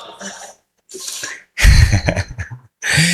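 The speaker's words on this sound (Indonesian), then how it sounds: "Bersinnya heboh" A loud, explosive sneeze bursts out close to the microphone during a Ramadan family talk, between breathy sounds and short bits of speech.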